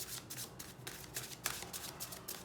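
A deck of tarot cards is shuffled by hand, making a quiet, continuous riffle of rapid papery flicks and soft slaps, close by and with no talking.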